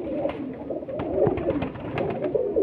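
Several highflyer pigeons of Teddy-cross type, kept in a loft in Lahore, coo steadily and softly, with overlapping low throaty calls that carry on throughout with no talking.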